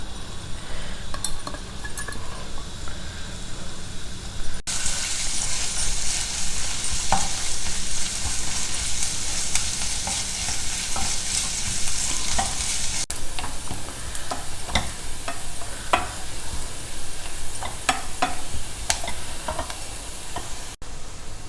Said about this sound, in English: First we will heat about 2 tablespoons of oil in a pan and fry the sliced onions till they are nice and brown.